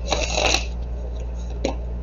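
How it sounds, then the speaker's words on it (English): Tarot cards are shuffled by hand in a few quick riffling bursts near the start, then a single short card snap follows after a pause, all fairly close and soft. "Alright, one more shuffle."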